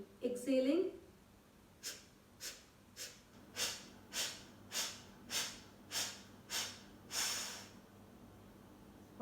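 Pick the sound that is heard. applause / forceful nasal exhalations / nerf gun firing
forceful nasal exhalations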